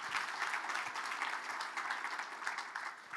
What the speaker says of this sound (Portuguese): Uma salva de palmas, João Pedro Barros.